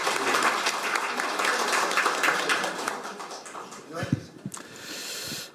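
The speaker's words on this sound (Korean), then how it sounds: "모두 큰 박수 부탁드립니다." Audience applause at a Korean forum on delayed post-war PTSD and veterans' policy, a dense steady clapping that fades after about four seconds into scattered claps and room noise.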